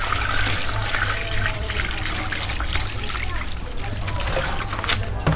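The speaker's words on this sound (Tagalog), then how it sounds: "Tapos lalagyan ko ng tubig." Water pours steadily into a pan holding two pork legs, a continuous splashing rush under a person talking.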